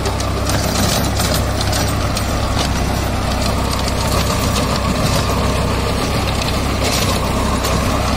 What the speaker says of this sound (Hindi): आप ट्रैक्टर की चाल देख सकते हैं कितना अंडर लोड और कितने ज़्यादा चाल हो रखी है ट्रैक्टर की